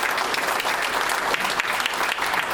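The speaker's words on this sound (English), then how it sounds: "one more round of applause for our guest speakers" A large audience claps loudly and continuously for guest speakers at an event with a retired US Army colonel, a thick, close wash of hands with no voices on top.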